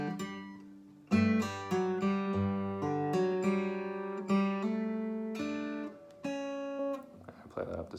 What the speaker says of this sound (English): We're going to hammer on open D